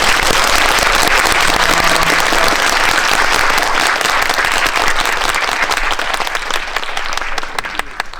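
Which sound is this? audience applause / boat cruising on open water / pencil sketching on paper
audience applause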